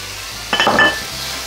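Beans land in a hot pan with a short burst of sizzle and a metallic clink, close up in a kitchen, over a quiet background hum.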